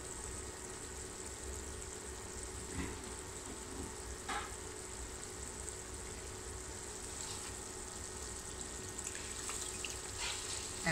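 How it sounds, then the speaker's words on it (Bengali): Water poured into a pan of frying spices for a Bangladeshi-style chicken jhal fry produces a faint, steady sizzle and hiss with a few brief clinks, quiet and continuous with no talking. "আমি এখন সামান্য পানি দিব।"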